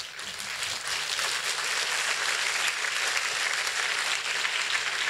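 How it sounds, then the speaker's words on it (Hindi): A hall full of students and guests at an Olympiad felicitation ceremony in Bhiwani claps loudly and steadily, dense applause filling the room without pause. "एक बार पूरा सदन खड़ा होके इनको एक बार इनके लिए जोरदार तालियां बजाएं"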